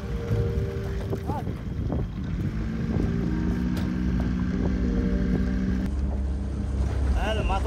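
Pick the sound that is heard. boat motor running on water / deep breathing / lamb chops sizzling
boat motor running on water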